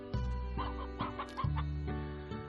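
Chickens in the Slime Rancher game cluck in a series of short, bright, clipped bursts over a sustained tonal backdrop, several calls spaced unevenly and close.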